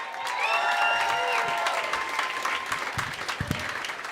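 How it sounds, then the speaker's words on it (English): A comedy club audience on State Street applauds as comedian Gena Gephart takes the stage, with a sustained wash of clapping, tonal whoops and cheers on top, and a few sharper claps near the end. "Please give a big round of applause to Gena Gephart."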